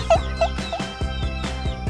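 A junglefowl hen brooding eggs on a farm gives a run of close, repeated low clucks in a steady rhythm, with no talk.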